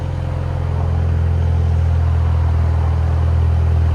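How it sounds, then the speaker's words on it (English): A 2021 Mercedes A35 AMG with a straight-pipe exhaust idles just after a cold start, giving a steady, loud, close low rumble that holds even throughout with no voices over it. "Nice idle. Not crazy loud. Clean. That's the cold start, you know."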